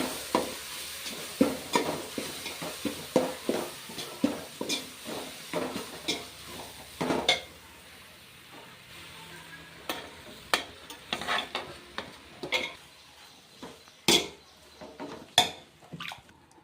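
Puffed rice (borugulu) being stirred in a pan for a North Karnataka-style vagarni, giving repeated crisp scraping and rustling strokes in an uneven rhythm, close and fairly loud, with no talking.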